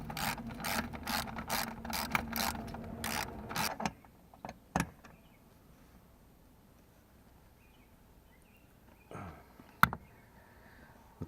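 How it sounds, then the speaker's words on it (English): A ratchet wrench tightens the bolts of a Smooth Moves Ultra seat base: rapid bursts of close pawl clicking for about four seconds, then a few isolated clicks and knocks amid quiet. "now we're going to go back up to the front 2, tighten those down"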